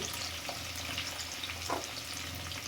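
Green chilies frying in a pan for a white chickpea curry, a continuous soft sizzle with a few light stirring scrapes, close and without speech.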